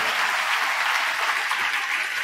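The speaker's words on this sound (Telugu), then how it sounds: "కొట్టు చప్పట్లో" Dense, steady applause from a church congregation during a sermon, filling the whole stretch evenly with no pauses or voices breaking through.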